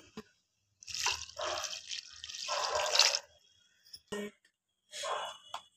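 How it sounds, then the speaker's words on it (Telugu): Water pours into a pot of chicken curry for a shorva gravy, coming in two splashing bursts of a few seconds each with brief drips between them. "మనకి షేర్వాకి ఎంత నీళ్ళు కావాలో అంత నీళ్ళు పోసుకోవాలి"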